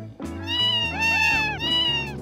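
Savannah cat giving a long, drawn-out meow close up, rising and falling in pitch, then a shorter second call, with a low steady hum underneath.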